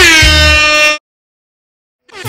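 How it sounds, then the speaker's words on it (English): A loud air horn gives a single sustained, brassy blast of about a second, cuts off into silence, then starts a second blast at the very end. "There's the air horn."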